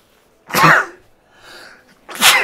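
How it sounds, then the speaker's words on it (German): A single loud, close sneeze bursts out near the start, followed by a softer exhale and then a second forceful sneeze at the end, with no talking in between. "Oh, ich glaube, ich muss gleich niesen."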